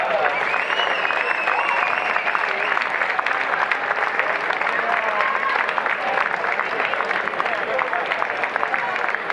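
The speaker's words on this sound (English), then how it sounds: "Please give me one more big round of applause for our referees." A large audience at a men's lacrosse bronze-medal event in Radotín applauds the referees, a dense, steady wash of clapping and cheering that holds at full strength throughout with voices mixed in.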